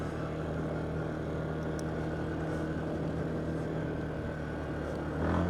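A Yamaha Kodiak 450 ATV fitted with a high-compression piston runs with a steady, droning engine note. The engine stays mostly even and swells briefly near the end, with no talking.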